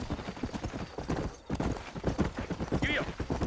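Horse hooves clip-clop at a steady riding pace in the Western video game Red Dead Redemption, close and continuous, with a brief whinny near the end and a voice talking over the hoofbeats.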